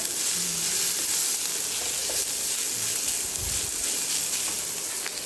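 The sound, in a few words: potatoes and onion frying in a pan for patty filling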